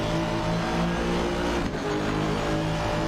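A sim race car roars at full throttle down the start-finish straight at Spa, the engine a loud, steady drone with a brief dip midway, alone with no talk.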